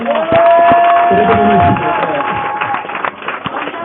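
A congregation at a pastor's consecration service cheers and claps, a dense crowd roar with scattered sharp claps, loud at first and easing slightly, with voices shouting and singing over it.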